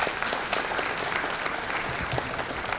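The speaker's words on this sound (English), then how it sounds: "give them a big round of applause" Dense, sustained applause from a large audience at a management institute's convocation, an even wash of clapping that holds steady throughout.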